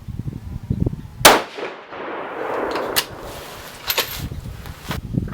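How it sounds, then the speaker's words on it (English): A 6ARC rifle firing a five-shot group from 6.5 Grendel brass fed off a magazine: sharp, loud reports spaced a second or more apart, each with a ringing tail, the first shot strongest, outdoors at a range. "So we'll go ahead and shoot a 5-shot group."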